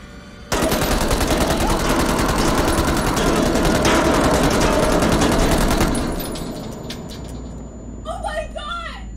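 A long, loud burst of rapid automatic gunfire in the horror video game Man of Medan rattles continuously for several seconds, then fades as excited players shout and talk.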